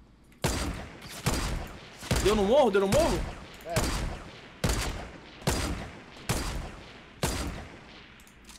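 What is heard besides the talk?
gunfire exchange on a hill in video game Fortnite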